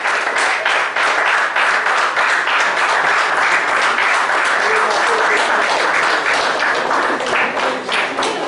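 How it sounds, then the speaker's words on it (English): Applause from an audience at a Teachers Day celebration, dense and sustained clapping from many hands filling the whole stretch at an even loudness. "big round of applause"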